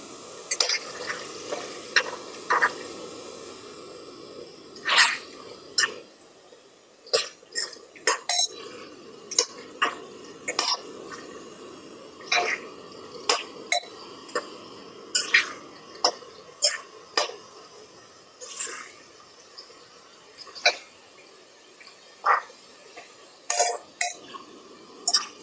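Coriander and mint being stirred into chicken biryani in a pan, repeated scraping and clanking spoon strokes in an irregular rhythm over a soft sizzle, close up, with a cough or throat clear.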